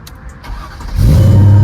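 A Mercedes E55 AMG engine cranks briefly after faint clicks, then catches and settles into a loud, deep idle rumble close by.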